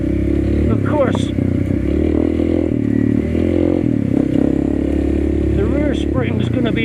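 A Honda CRF301cc dirt bike rides offroad, its engine droning and rising through repeated revs, with chassis clatter and scraping as it bounces over rough ground, close and loud throughout.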